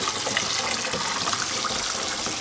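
Steady, loud tap water pours into a sink while meat is rinsed under it, a continuous broadband gush with no talking.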